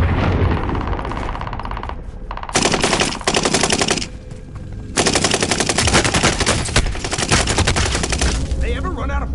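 Sustained machine gun fire from a shooter video game's bounty mission, loud and rapid in long bursts with brief pauses, continuing through most of the stretch with faint background voices.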